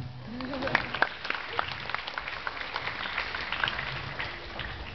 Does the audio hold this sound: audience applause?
yes